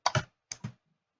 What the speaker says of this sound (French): Donc là, dans ma barre de recherche en haut à gauche, je vais taper